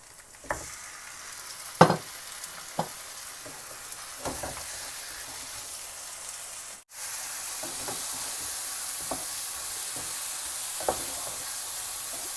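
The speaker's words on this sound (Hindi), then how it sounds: "अब चिकन को हम 7-8 मिनट के लिए भून लेंगे।" Chicken pieces fry with browned onions in a pan, a continuous close sizzle with occasional stirring clatters and spoon knocks, no talking.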